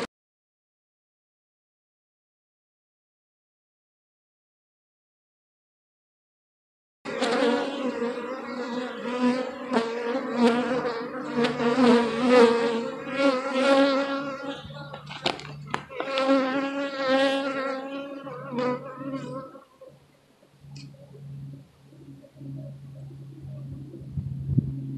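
Honeybees buzzing around an open hive during an inspection with a new queen present, a dense droning hum that starts abruptly after several seconds of silence and continues steadily, rising and falling slightly.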